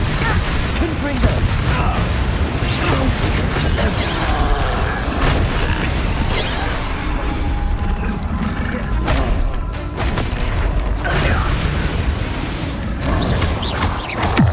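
A Confringo blasting spell in Hogwarts Legacy sounds as loud crashing booms amid dense, continuous combat noise and a game score, with someone speaking over it.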